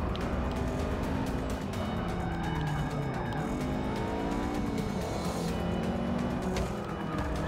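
Race car engine in Forza Motorsport 6, a loud continuous drone with rising and falling revs through gear changes, plus tire squeal and a car passing by, with no talk over it.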